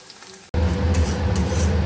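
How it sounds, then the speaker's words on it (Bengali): Onions hit a pan for a light fry while making chili momo gravy, starting a sudden broadband sizzle after a short quiet moment that then holds steady and close. "পেঁয়াজ দিয়ে দিলাম এখন এটাকে হালকা ফ্রাই করে নিই"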